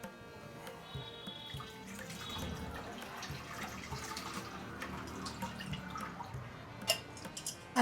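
Water poured by hand while making traditional Tamil rasam, with soaking ingredients being worked by hand; a steady close trickle and splashing with scattered drips throughout, no talking.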